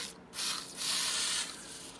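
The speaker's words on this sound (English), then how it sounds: "You just spray the dauber in the bag like that." Spray adhesive from a can hisses onto a wool dauber inside a Ziploc bag, in two steady bursts close by with brief gaps and no talking.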